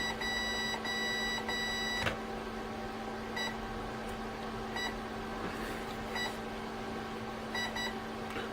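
Repeated short electronic beeps from an RC jet boat's speed controller sound in clusters over a steady background hum, with a sharper click partway through.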